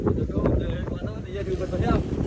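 Strong wind at the seashore buffets the microphone with a constant low rumble and gusty roar throughout.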